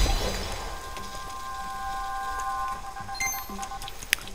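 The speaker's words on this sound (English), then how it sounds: "Huh, it's raining." Rain falls in the video game Legend of Zelda: Echoes of Wisdom, a soft continuous patter and hiss with faint sustained musical tones and a few light chime-like plinks near the end.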